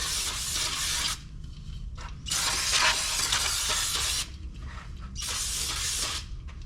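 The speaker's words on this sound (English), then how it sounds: "you'll want to take some brake cleaner and clean off the surfaces that those are going to sit on." Brake cleaner sprayed over a brake caliper and pad mounting surfaces on a 2014–2020 Infiniti QX80 / Nissan Armada, heard as three long hissing bursts of aerosol spray separated by short pauses, close and loud with no talking.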